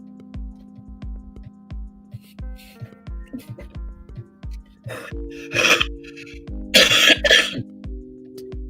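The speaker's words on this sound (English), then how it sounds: "Still can't get rid of this cough, y'all." A person coughs a few times, harsh and close, after quiet soft ticking in the background.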